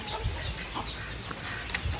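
Two roosters being carried indoors during a storm, giving short clucks over a steady roar of rain and wind that fills the background.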